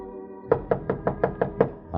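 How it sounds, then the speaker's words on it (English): Knuckles rap on an apartment door seven times in a quick, even series, close and distinct, with a low hum in the background. "I knocked, and nothing happened. Knocked again."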